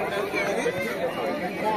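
Dense crowd chatter at Hirakud Dam in Sambalpur, a steady unbroken babble of many voices close around, with no single voice standing out.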